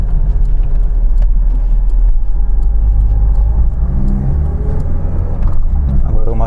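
A car engine blips its revs during heel-toe downshifts while braking and clutching, a loud steady engine drone with rising rev bursts toward the end, heard up close.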